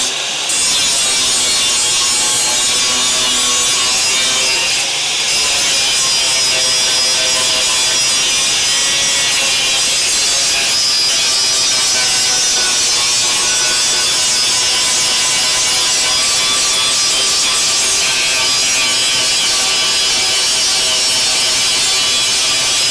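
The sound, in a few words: grinder working on a car body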